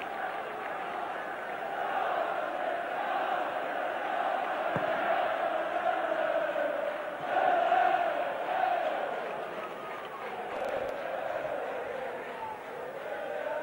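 A football crowd in the stands at an FA Cup fourth-round match between Norwich City and Manchester United chants a song in unison, a steady distant roar of massed voices that swells briefly midway.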